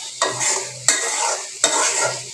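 Spiced masala being sautéed in oil for egg rezala, three rhythmic stirring strokes of a spoon through a loudly sizzling pan, close up, no talking.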